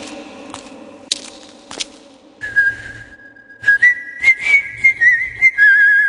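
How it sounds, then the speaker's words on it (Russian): A lone person whistles a tune inside a chapel, starting with a few sharp taps and clicks before a clear, wavering melody rises and carries on for several seconds at moderate loudness. "Бера свистел, и его свист разносился по всей часовне"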